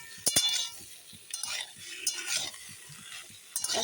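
A spoon stirring papaya and potatoes in a cooking pot, with sharp metallic clinks against the rim and soft scraping, shuffling strokes in an irregular rhythm, close and fairly quiet, with no voices.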